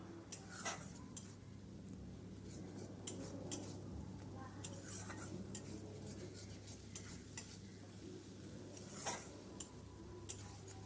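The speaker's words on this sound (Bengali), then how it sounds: "এতে আমি অল্প একটু জল দিয়ে দিচ্ছি, দিয়ে ভালো করে আমি কষিয়ে নিচ্ছি।" Fish curry masala with a little added water is stirred in a pan, giving a run of scraping and clinking utensil strokes against the metal over a faint, low sizzle.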